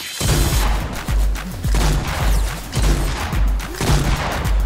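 Gunfire in a Fortnite match, several bursts of loud shots with booming impacts repeating in clusters about every second, close and dominant.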